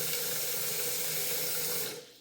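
Water runs steadily from a new bathtub faucet with a long spout, a close, full rushing hiss that stops near the end, with no voices.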